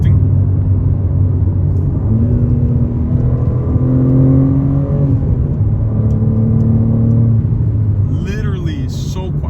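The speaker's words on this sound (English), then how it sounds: "Downshifting." BMW G80 M3 with a 4-inch modular midpipe exhaust, valves closed, downshifting: a steady, close engine drone with sliding pitch as revs rise and fall through gear changes, running continuously for the whole stretch.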